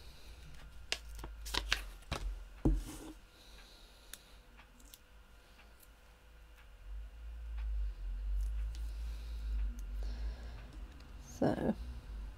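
Scissors snip around stamped paper card pieces with tortoise designs, quick soft cuts and rustling close by, a cluster of snips early on and again near the end, under low background hum.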